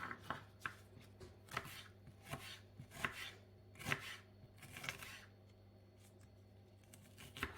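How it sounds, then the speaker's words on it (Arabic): A knife chops red onion on a cutting board for a colourful pepper salad, with repeated crisp taps in an uneven rhythm, close but quiet, without talk. "نقطعه كيما هكا، يكون رقيق بزاف."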